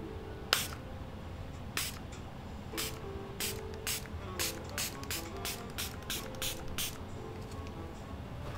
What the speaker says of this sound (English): So tempting to just spray that now.